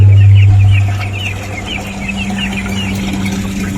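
Fourteen-day-old chickens in a poultry farm keep up a dense, continuous chorus of clucks and chirps over a steady low machine hum, fairly loud and close.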